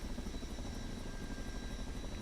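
A Boeing CH-47 helicopter in Microsoft Flight Simulator 2024 produces a steady, muffled rotor and engine drone with a continuous low throb and a thin high whine, heard alone and fairly quietly.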